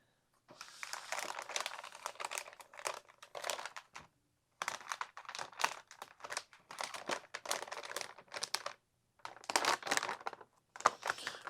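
Plastic or cellophane packaging is crinkled and crumpled up close while parts for a $6000 gaming computer are unpacked, in busy rustling bursts with a few short pauses and no talk.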